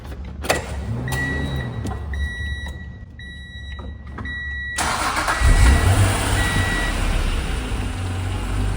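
A 1995 Acura NSX-T with a manual gearbox and 16,000 miles cranks and fires at about five seconds, after a few chimes and soft clicks, then settles into a loud, steady close-up idle.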